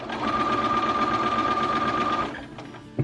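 A sewing machine stitches elastic onto fabric, a fast steady mechanical whirring close up for about two seconds before it stops, followed by faint handling noises.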